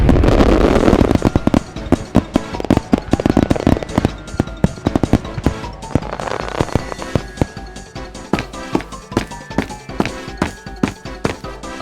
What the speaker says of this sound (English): Starting with the fountain fireworks.